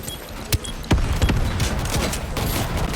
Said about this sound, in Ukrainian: Кинув гранату.